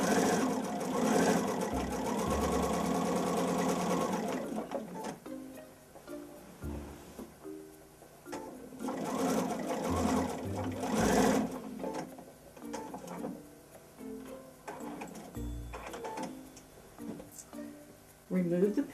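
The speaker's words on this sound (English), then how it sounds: "Then I'll put it back under the sewing machine. And finish stitching the binding onto the quilt top" A sewing machine stitches binding onto a quilt top, a steady mechanical whirr in several runs with short pauses, while a person talks over it.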